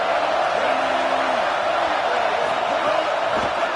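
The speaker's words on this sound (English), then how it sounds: "This crowd trying to make life miserable for this offense." A stadium crowd at a football game roars in a steady, dense wash of noise throughout, with no clear breaks, distant and broad.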